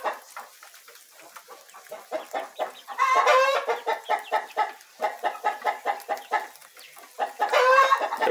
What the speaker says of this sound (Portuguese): esse barulho aí é as galinhas que estão tudo cantando aí